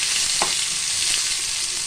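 Chopped onion and small pieces of fresh coconut sizzle steadily in hot oil in a pan, with a constant bright frying hiss and a faint scrape of stirring, and no talking.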